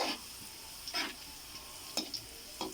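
Garlic sautés in a pan for adobong sitaw, a faint low sizzle broken by four brisk spatula scrapes spaced about a second apart, fairly quiet and close.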